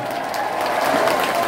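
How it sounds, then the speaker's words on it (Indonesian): A large crowd of political campaign volunteers at a rally in Gorontalo applauds, a brief dense wash of clapping and cheering voices that swells slightly toward the end. "semua relawan tepuk tangan"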